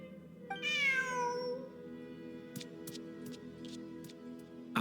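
A single clear meow from a cat in Genshin Impact, rising then trailing off, over a steady low ambient hum with a few faint ticking clicks afterward.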